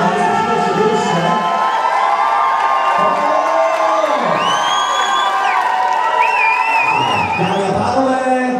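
A crowd cheers, whoops and shouts steadily at a Czech school graduation ball as the class makes its ceremonial entrance, a loud, dense wash of voices with some high shrill whistles and yells rising above it.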